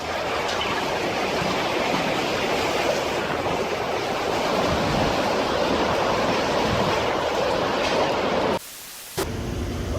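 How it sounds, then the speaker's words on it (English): Massive ocean waves pound an iron and steel structure in a continuous, loud, roaring wash of surf that briefly cuts out near the end before resuming. "These massive waves make this seemingly invulnerable structure of iron and steel look like a rubber duck."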